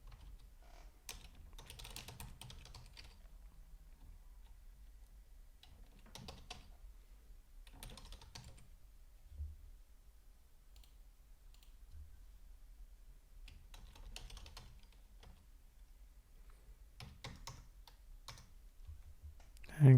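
Quiet typing on a computer keyboard while address details are entered into an online form, coming in several short bursts of key clicks separated by pauses, close and soft.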